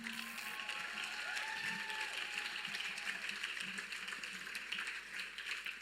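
Audience applause after a talk at a dress-up meet, a steady wash of clapping sustained throughout with faint voices and a whistle-like tone mixed in.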